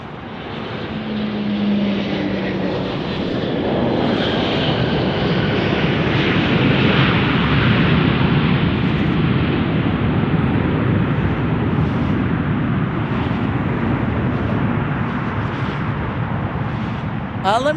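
A Southwest Airlines airliner passes at Las Vegas, a steady, loud broadband jet roar holding for the full stretch under gusty crosswind, with no talk heard.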